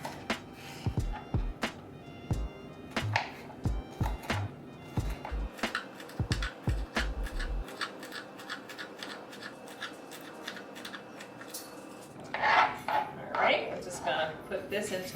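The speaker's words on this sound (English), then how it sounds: "I'm still gonna chop it up" A knife chops jalapeño on a cutting board in a quick series of close, crisp taps, then pauses before softer scraping and handling noises.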